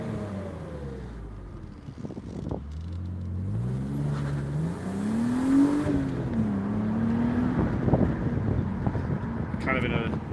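Newly bought project car driving through a business area, its engine revving up and down through gear changes with rising and falling pitch, close and loud under wind buffeting on the microphone.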